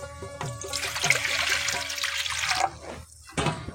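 Water pours into a bowl of pumpkin leaves set to soak in salt water, a steady splashing gush for a few seconds, then a pause and a brief second pour.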